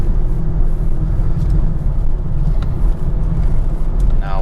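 A 2023 BMW 430i Convertible's four-cylinder engine pulls steadily under acceleration, a constant loud low drone with road rumble heard from inside the cabin, and someone talks over it.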